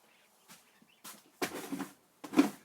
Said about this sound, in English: The geese are outside the door